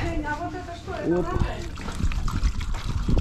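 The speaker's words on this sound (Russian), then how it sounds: "И сейчас буду наливать воду." Water is poured into a van's shower tank, a soft trickling and splashing running steadily under close talk throughout.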